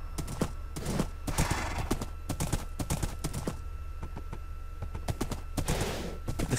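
Horse hooves clip-clop in a Minecraft-style UHC survival game, a steady run of quick, close hoofbeats repeating across the whole stretch with no talk over them.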